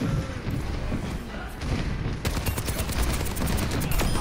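Soldier 76's rifle in Overwatch fires a fast, steady stream of shots, sharper and denser after the first two seconds, with a voice talking over the shooting.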